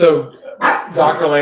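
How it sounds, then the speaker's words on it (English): Dogs bark in the background of a school board meeting held remotely, partly masked by a person speaking close to the microphone. "I apologize for the dogs."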